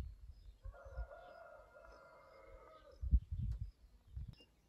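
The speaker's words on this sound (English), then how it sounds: "listening to the roosters" A rooster crows once in the distance, a drawn-out call lasting about two seconds over quiet rural ambience with low thumps afterward.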